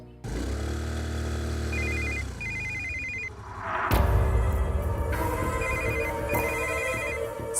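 A phone rings in repeated electronic ringtone bursts, a short pattern of tones that stops briefly and then starts again, heard over a dramatic music score with no voices.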